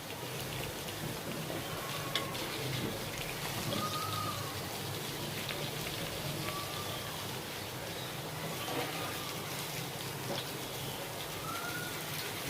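Mutton chops frying in a pan give a steady, dense sizzle like rain that runs the whole time, while a few soft bird coos drift in faintly from the background.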